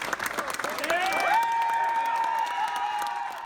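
Fellow CHP officers in tan uniforms clap and cheer outside UC Davis Medical Center as an injured officer walks out with a cane. The applause is dense and steady, with whoops and voices mixed in.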